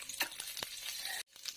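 Mustard seeds, fennel and curry leaves hitting hot coconut oil in a pan, sharp crackling sizzle with a few popping bursts and stirring scrapes, close up, cutting out briefly near the end before resuming.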